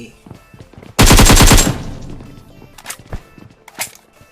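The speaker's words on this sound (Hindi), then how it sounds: "अब गोलियां चल रही हैं, यानी कि यहाँ पे 2 टीम के बीच में विवादित स्थिति बनी है।" Gunfire exchanged between teams in the mobile battle royale game BGMI / PUBG Mobile: a loud, rapid automatic burst lasting about half a second, followed by scattered fainter shots and cracks.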